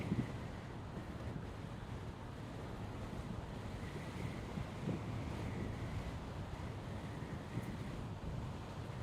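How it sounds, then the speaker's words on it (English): Strong wind roars into an outdoor microphone in a steady, broadband rush, with occasional louder buffets, and no one speaks over it. "Man, it's windy as hell today."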